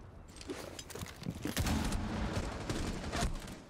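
Grenades go off in a tactical shooter game as a string of muffled bursts and cracks, fairly quiet and distant, with one stronger blast near the middle.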